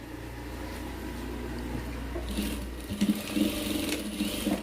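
A sewing machine hums steadily up close while stitching a Punjabi dress collar, a continuous low motor drone with rhythmic needle chatter that grows busier toward the end.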